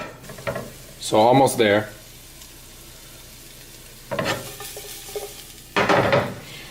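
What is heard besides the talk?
onions frying and being stirred in a pan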